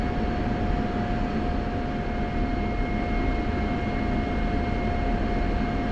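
Simulated F-16 fighter jet taxiing toward the runway in a flight game, a steady broadband engine roar with a constant whine, continuous and even throughout with no talking.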